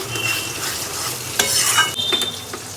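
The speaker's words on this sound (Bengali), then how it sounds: "ডিপ ফ্রাই করে নিচ্ছি এই সাইডটা হয়ে গেছে উল্টো সাইডটা লাল করে ভেজে নিচ্ছি" Fish deep fries in hot oil, giving a steady close sizzle with occasional stirring scrapes and light clinks of a utensil against the pan.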